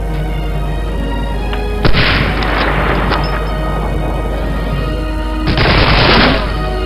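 Gunfire in the video game Medal of Honor Allied Assault, with two sharp bursts of shots aimed at a spotlight over a steady background drone of game ambience.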